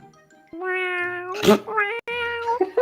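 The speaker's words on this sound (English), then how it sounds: "That's a good kitty." A cat meows twice in drawn-out, harmonic cries, close and fairly loud, with a short breathy burst between them and a brief voice sound near the end.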